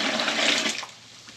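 Hot water gushes in a short rushing splash as it runs into fertilizer granules to dissolve them, a brief frothy flow that fades quickly.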